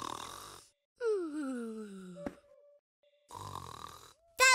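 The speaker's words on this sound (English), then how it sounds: "That sounds like snoring." A cartoon lion snores loudly in a long, drawn-out groaning snore with falling pitch, framed by bursts of busy cartoon sound before and after.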